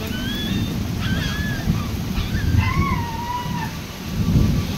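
Steady heavy rain roars in the monsoon, with low rumbles like distant thunder rolling underneath and birds chirping faintly over the downpour.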